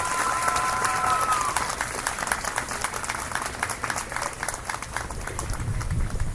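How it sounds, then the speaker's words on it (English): A large audience applauds at a high school graduation ceremony, with dense sustained clapping and a few cheers filling the hall, steady and loud throughout. "Let's give her another applause."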